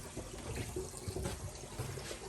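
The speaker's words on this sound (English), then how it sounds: "We're testing the water pump now." Water runs steadily from a camper tap during a pump test inside a box truck conversion, a continuous close hiss with faint gurgling and no talk.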